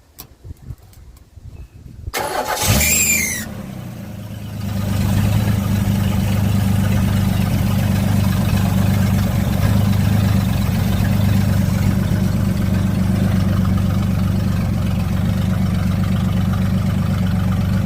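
A 1965 Ford Mustang engine cranks briefly, catches and settles into a steady, loud, low idle that holds close by for the rest of the stretch, with no voices.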